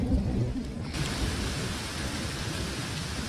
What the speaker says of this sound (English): Despite it raining, we still need water.